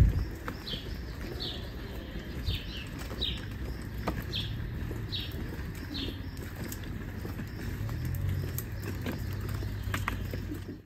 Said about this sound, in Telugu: అండ్ విన్నారు కదండి పక్షులు శబ్దం ఇదంతా.